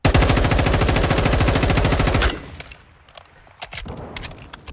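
Rapid automatic gunfire from weapons in the video game Modern Warfare 2, a loud, dense burst of shots lasting about two seconds that cuts off sharply, followed by quieter scattered clicks and thuds.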